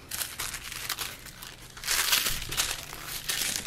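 Cotton-type fabric being folded in half and handled while cutting pieces for a purse backpack, with close, continuous crinkly rustling that swells louder partway through.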